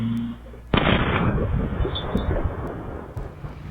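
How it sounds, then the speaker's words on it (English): A distant explosion picked up by a home surveillance camera: a sudden loud broadband blast followed by several seconds of rumbling, crackling aftermath, with faint background noise before it. "The power of the explosion captured from a distance by home surveillance."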